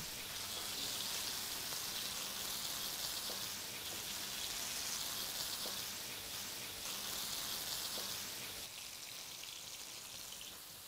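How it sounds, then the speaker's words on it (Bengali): Pieces of potato and cauliflower deep frying in oil, a steady, bright bubbling hiss that holds for the whole stretch, close and even, with a few faint clicks. "প্রথমে আমরা এগুলোকে আলাদা করে ডুবো তেলে ভেজে নেব।"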